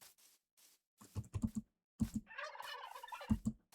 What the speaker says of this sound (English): Turkeys are loud as fuck.